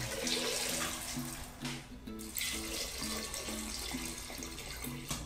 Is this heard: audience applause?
no